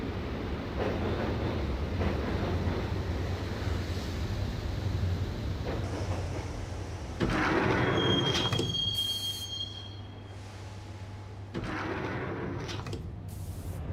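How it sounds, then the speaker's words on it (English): A subway train rides through the Max Payne video game with a loud, steady rumble of wheels on rails and a low drone, then a long metallic squeal, and the noise drops and returns as the cars roll on. "the train doors had already shut behind me, and I was in for the ride"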